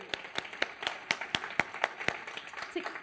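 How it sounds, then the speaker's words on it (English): Audience at a design industry event clapping in a quick, regular rhythm, faint and even claps with a slight murmur of voices beneath. "let's give Universal a great big round of applause"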